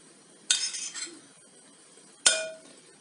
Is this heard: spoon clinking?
yes